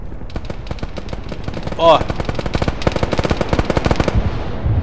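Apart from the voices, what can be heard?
gunfire in video game ArmA 3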